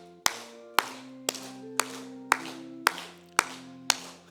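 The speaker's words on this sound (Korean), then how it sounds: "박수 치시면서 우리 한번 찬양해 보겠습니다." Church congregation clapping in time with a worship song during a Sunday service, eight evenly spaced, sharp unison claps over a soft sustained organ or keyboard chord, with no voices.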